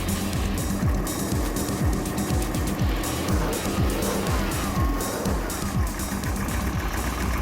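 Factory Five kit car engine running loud and close right after its first start, a steady throaty idle with rhythmic revving pulses throughout, no talk.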